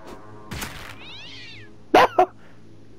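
A cat meows in South Park: The Fractured But Whole, a drawn-out wavering meow followed later by two short, sharp, louder cries close up over a quiet game background.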